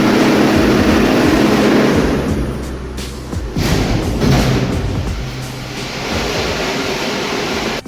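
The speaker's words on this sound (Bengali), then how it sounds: "মেশিন বন্ধ করার পর জলের প্রেসারের এরকম আওয়াজ।" Just after a motor is switched off, water pressure in the pipes keeps rushing with a loud, hissing, surf-like noise. It swells and eases slightly, with a brief dip partway, and no one speaks.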